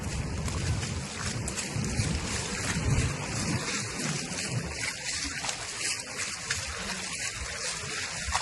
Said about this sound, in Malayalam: ഭയങ്കര ഒഴുക്കാണ് വെള്ളത്തിന്